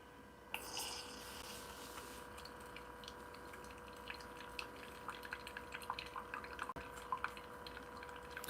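A budget home espresso machine runs its hot-water function, giving a steady hiss and trickle of liquid into a cup with small drips and gurgles throughout, fairly quiet and close, with no talking.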